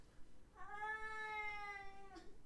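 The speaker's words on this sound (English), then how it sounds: "You hear that? That was my cat." A cat gives one long, drawn-out meow with a slightly wailing tone, faint and somewhat distant against a quiet indoor background, with no one talking.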